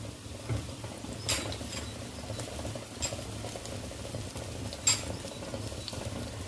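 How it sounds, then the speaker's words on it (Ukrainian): Quiet, continuous scraping and clinking of a spoon stirring flour into Ukrainian red borscht with mushrooms in a pot, with a few sharper taps against the side. "Тепер розмішую всю муку."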